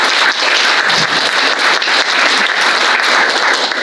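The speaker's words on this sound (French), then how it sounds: "Si vous voulez bien les applaudir." Audience at a conference applauding the speakers, a dense, loud burst of many hands clapping steadily throughout, with no voices standing out.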